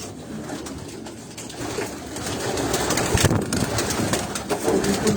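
Racing pigeons cooing inside a pigeon loft in Quetta, with soft repeated low coos and some wing shuffling over a faint background engine hum, with no talk.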